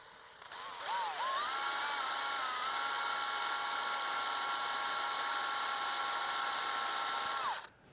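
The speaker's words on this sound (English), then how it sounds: "drilling a hole in the bike" A power drill bores a hole through a bicycle frame during an e-bike conversion, a steady high whine that winds up, holds for about six seconds under load, then stops.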